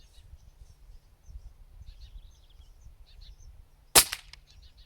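An air gun fires a single sharp, suppressed shot through a moderator outdoors, a brief loud crack near the end, with faint birds and insects chirping in the quiet background before and after.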